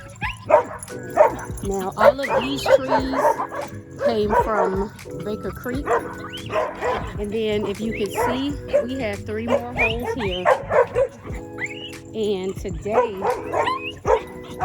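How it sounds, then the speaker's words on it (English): Neighbouring dogs next door yip and bark repeatedly, restless and excited, running under a person talking steadily throughout. "Excuse the dogs next door."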